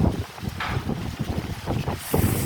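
Strong gusting wind tears at shade cloth outdoors, a loud continuous roar with flapping buffets and heavy microphone rumble throughout.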